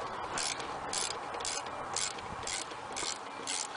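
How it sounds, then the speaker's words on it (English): A ratchet loosens a nut on the rear shock of a Cadillac CTS, giving a steady run of close, evenly paced metallic clicks in short bursts, with no voices. "I'm just gonna go ahead and ratchet this nut out"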